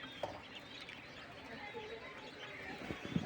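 Forty-day-old king quail on a farm give soft, faint chirps and calls against a quiet background hiss, with a couple of brief, sharper peeps near the start and end.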